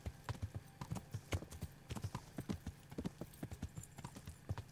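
Horse hooves clip-clop steadily in Kingdom Come: Deliverance, a brisk rhythmic walk of close, distinct knocks continuing throughout with no other sound over it.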